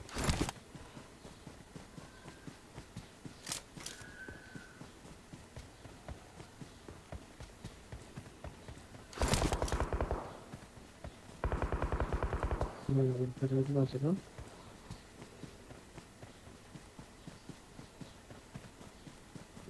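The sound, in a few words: horse galloping in video game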